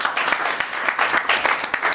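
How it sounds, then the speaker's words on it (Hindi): An audience at a company achievers' recognition event gives a short burst of loud applause, a dense, continuous patter of many hands clapping nearby. "जोरदार तालियां।"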